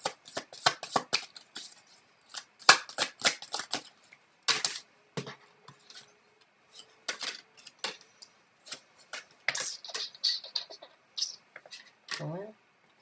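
A deck of tarot cards is shuffled and riffled in a series of crisp, close, irregular bursts of flapping and snapping cards, with brief pauses between them and quiet handling noises.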